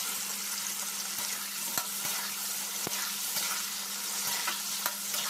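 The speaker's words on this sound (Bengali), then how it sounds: "এবার আমগুলো তেলটার মধ্যে আমি ভাজবো" Raw mango pieces fry in oil for a Bengali mango pickle, giving a soft, continuous sizzle. A few sharp stirring clicks and taps from a spatula sound close by, with no talking.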